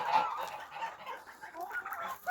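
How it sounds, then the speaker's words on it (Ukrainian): Geese in a farmyard honk and call repeatedly while waiting to be fed, heard at a moderate distance with no voices. "І гуси там чекають їсти, кричать."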